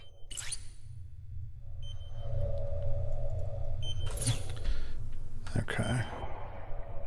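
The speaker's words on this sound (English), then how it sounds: "What is that beeping?" Beeping in an underwater facility video game, an electronic signal sounding over a low droning hum while a person talks over it.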